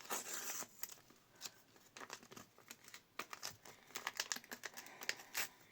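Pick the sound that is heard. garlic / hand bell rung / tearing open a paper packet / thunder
tearing open a paper packet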